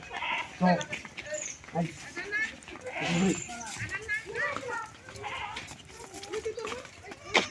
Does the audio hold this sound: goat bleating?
yes